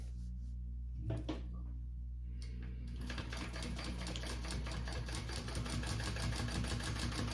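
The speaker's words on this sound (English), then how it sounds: "I'm going to sew it down along the side, bottom, and the other side." A domestic sewing machine stitches down a handbag slip pocket: a couple of clicks and a short pause, then a fast, steady mechanical clatter of the needle running continuously, close up with no speech.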